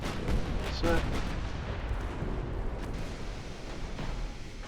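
Naval gunfire and shell hits in the warship game Ultimate Admiral Dreadnoughts, a dense rumbling barrage of heavy booms and distant impacts rolling on continuously at high level.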